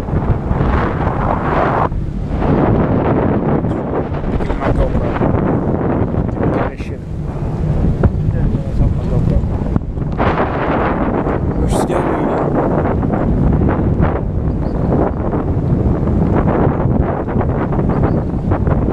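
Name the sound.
strong wind on a ship deck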